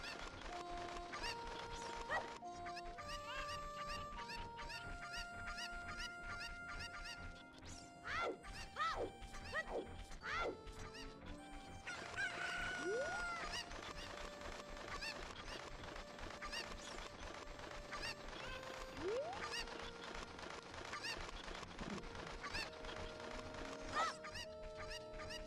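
Cucco chickens in the video game Ocarina of Time crow and cluck amid dense game music and sound effects, with sharp squawks and crashing hits scattered through a long, busy stretch.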